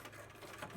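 A sewing machine stitches a fabric face mask with 1/4-inch elastic, a steady rapid mechanical whir at low level, brief and continuous with no talking.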